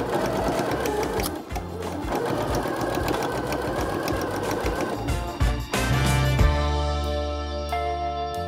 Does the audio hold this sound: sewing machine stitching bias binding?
yes